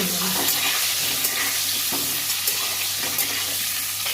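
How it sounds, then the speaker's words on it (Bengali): Pointed gourd (potol) pieces frying in hot oil with turmeric and salt, a steady close sizzle with occasional stirring clicks and scrapes. "পটলগুলো ভেজে নেব হলুদ দিচ্ছি লবণ দিয়ে নিই হলুদ দিয়ে"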